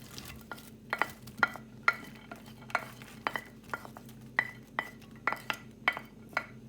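Chopped onion, garlic and chili frying in about two tablespoons of olive oil, a steady sizzle under a series of sharp clinks and scrapes of a utensil against the pan, repeating roughly every half second, close and alone with no talk.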